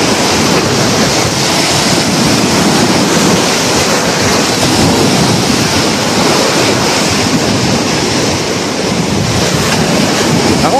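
Heavy sea waves crash continuously against a seawall, a loud, unbroken roar of surf and spray with wind buffeting the microphone and no pauses between impacts.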